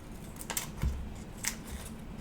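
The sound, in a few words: small scissors cutting sticky paper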